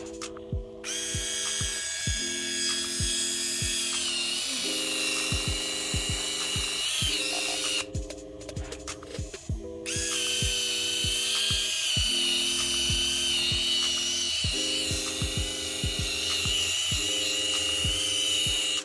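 A small electric callus shaver motor whirs steadily with a high, even whine and a pulsing low buzz, briefly cutting out midway before starting again.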